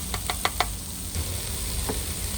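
Onions, peppers and chorizo fry in a pan with a steady soft sizzle, broken early by four quick knocks and a couple of later taps, as of a utensil against the pan.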